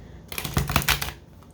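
A brand-new, still slippery deck of cards shuffled once, close by, in a quick burst of crisp fluttering clicks lasting under a second before fading out.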